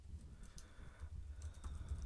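Light typing on a computer keyboard in a quiet room, a scattering of soft, irregular key clicks heard close and alone over faint background hiss.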